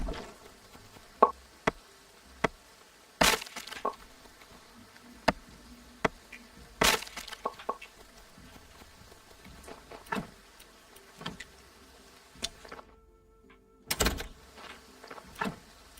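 Bees buzz in the farming game Graveyard Keeper as a faint, steady drone under scattered sharp interface clicks and taps, with no one talking.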